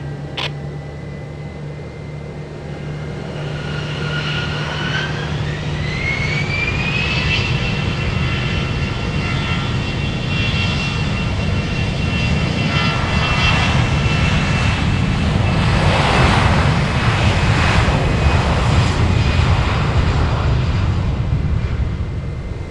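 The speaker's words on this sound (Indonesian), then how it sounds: "STTKDR, runway 25, clear for takeoff." A fixed-wing airplane takes off from runway 25, its engine building from a steady drone into a loud, sustained roar with a rising whine as it accelerates down the runway.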